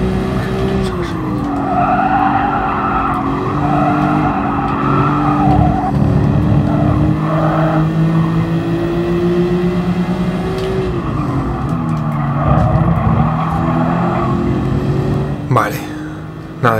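Race cars in Gran Turismo Sport on PS4 Pro, an engine droning loudly and steadily with pitch rising and falling through gear changes, tires squealing through corners, and a sharp crunch near the end.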